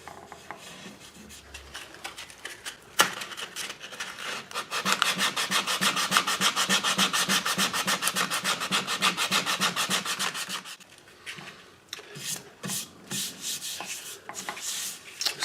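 Hand rasping, scraping and sanding a wooden archtop guitar neck: steady rhythmic strokes that build into a long, dense, close run of rubbing, then slow into separate strokes, with no voices.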